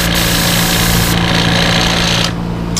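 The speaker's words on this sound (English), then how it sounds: "I always like to make sure that my paint stream is running fairly well, and you don't want little splotches flying out" Airbrush spraying dark paint onto an American bullfrog popper fishing lure, a steady loud hiss with a mechanical hum underneath, running continuously and alone with no talk.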